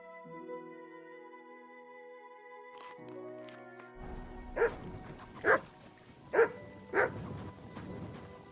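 A dog named Mutt in Kingdom Come Deliverance 2 barks four times, loud and close, in a spaced rhythm over a low ambient hum, following a few seconds of quieter tonal game sound.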